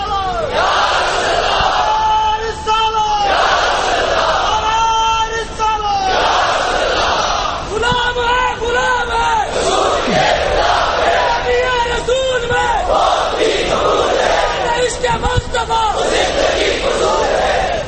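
A large crowd at a religious speech chants slogans together in loud, repeated call-and-response shouts, rising in rhythmic waves throughout with a leading voice among them.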